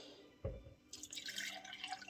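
Water poured into a container while preparing a sourdough starter, a brief low splash followed by a continuous bright trickling pour that carries on steadily to the end, close and fairly quiet.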